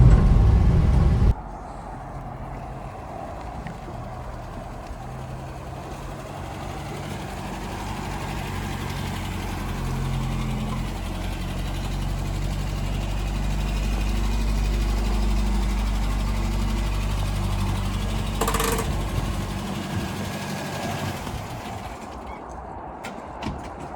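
A Ford Escort van engine running steadily on a test drive, a low droning hum that holds at a constant moderate level with a brief rattle partway through and no talking.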